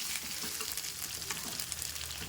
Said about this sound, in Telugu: హై ఫ్లేమ్ మీద ఈ విధంగా వేసుకుంటూ ముక్క అనేది గోల్డెన్ బ్రౌన్ కలర్ వచ్చిన తర్వాత